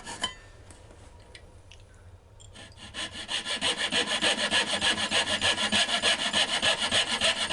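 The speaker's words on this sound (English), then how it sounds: "I'm just cutting these dovetail pieces out so that the other side can slide into them." A hand saw cuts through wooden dovetail pieces for a chess board, starting with light scraping and then settling into loud, close, rhythmic back-and-forth strokes.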